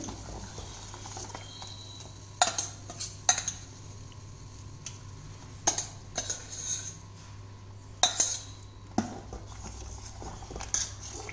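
A spoon clinks and scrapes against a metal pot in irregular bursts while stirring sorghum (jowar) flour porridge, with several sharper knocks over a low, steady background hum.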